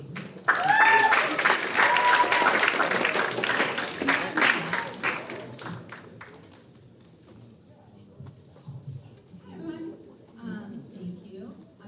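Audience applause for a speaker at a high school Writers Week event: dense clapping from a crowd swells for several seconds, then thins and fades into quieter room noise with a few scattered claps and murmurs.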